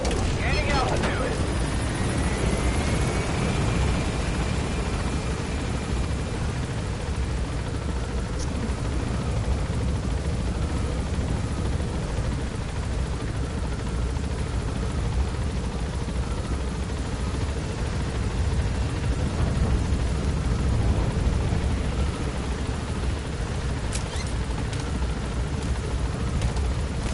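A helicopter in the video game Metal Gear Solid V drones steadily as it gains altitude, a constant rotor and engine rumble filling the whole stretch at even loudness, with some talking mixed in.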